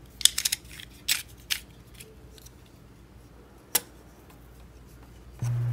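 A utility knife pries at the faint seam of an AirPods clone charging case, giving a few sharp, close clicks and snaps separated by quiet gaps. A steady low hum comes in at the very end.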